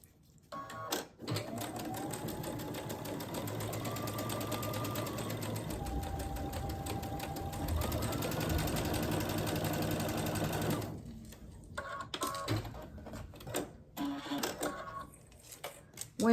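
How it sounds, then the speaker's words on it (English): A sewing machine runs steadily, stitching down the side of a pieced quilt block seam for about ten seconds, its motor whirring loudly with a rhythmic needle clatter, then it stops and a few faint handling clicks follow. "So I'm going to stitch down this side."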